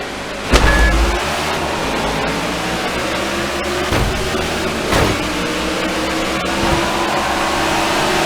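NASCAR stock car engines racing in the NASCAR 15 video game at Homestead Miami Speedway, a steady engine drone broken by a few sharp bumps and surges, with no talking.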